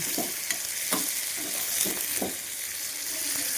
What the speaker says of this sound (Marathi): कांदा परतून झालेला आहे